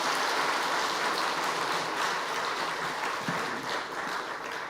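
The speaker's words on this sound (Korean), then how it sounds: "박수 한번 합시다." A church congregation at an evening revival service claps together, producing a steady, dense wash of applause that holds evenly throughout before easing slightly at the end.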